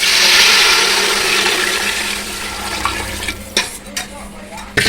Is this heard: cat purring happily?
no